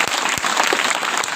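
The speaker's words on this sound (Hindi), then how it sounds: "एक बार आप ताली बजाइएगा।" School students at a morning assembly break into applause, a dense, loud and steady clapping from many hands close by, with no voices heard over it.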